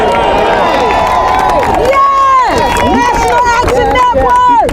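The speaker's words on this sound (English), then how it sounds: "Now y'all need to give a round of applause for our show." A loud crowd at a Memphis march commemorating the MLK assassination anniversary, cheering and applauding with shouts and whistles sliding up and down over dense, close babble.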